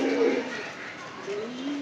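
Pigeons cooing inside a loft, low rolling coos rising and falling, moderately close and fairly quiet, with no talk.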